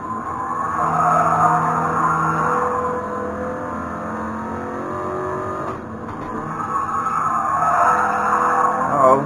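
A virtual Toyota GR86 drifts through a corner in a racing video game, its tires squealing in a sustained loud smear over the steady engine drone, close and continuous with no voices.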